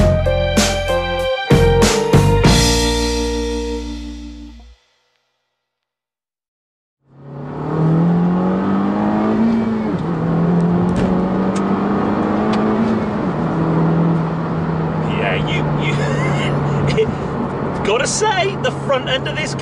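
Honda Civic Type R hot hatch pulling hard as its turbo spools around 3,000 to 4,000 rpm: after a brief silence the engine note rises loudly and steadily, stepping between gears, with a voice talking over it.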